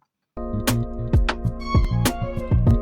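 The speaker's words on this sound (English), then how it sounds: "was a very basic lick, and I used this Shaka lead from Synth's lead" A Shaka synth lead preset plays a basic melodic lick for a beat, with bright tonal notes over punchy low hits that start after a brief silence and run in a bouncy rhythm.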